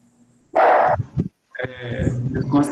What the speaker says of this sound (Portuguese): Considere aí o meu cachorro aqui